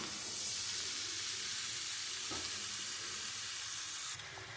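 Oil sizzling and hissing in a pan while cooking mixed fried rice, a steady, close frying crackle that drops slightly quieter near the end, with no voices.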